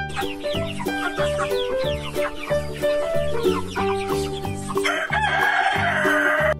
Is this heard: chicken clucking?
yes